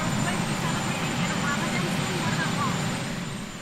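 A helicopter idles or hovers outside the White House, a loud continuous engine roar and rotor drone that holds steady and fades slightly toward the end.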